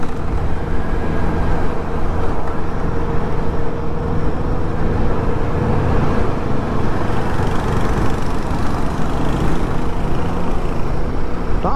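A Royal Enfield Guerrilla 450 motorcycle engine drones steadily while riding, a loud continuous hum with wind rush and no talking.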